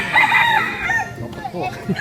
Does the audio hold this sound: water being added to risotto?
no